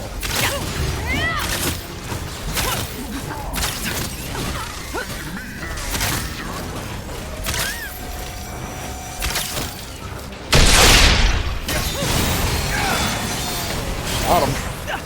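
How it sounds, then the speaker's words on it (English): Explosions and smashing impacts from combat in the video game Marvel's Avengers, with a loud burst near the end over a busy bed of game effects and voices. "Got the explosions going."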